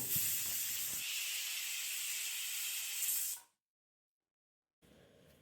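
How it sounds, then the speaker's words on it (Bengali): Pressure cooker with its lid shut, boiling jackfruit seeds in salted water, releasing a loud, continuous steam hiss for about three seconds before it cuts off abruptly into silence, followed by faint background noise. "কুকারের ঢাকনা বন্ধ করে 8 থেকে 9টা সিটি দিয়ে দানাগুলোকে সিদ্ধ করে নেব।"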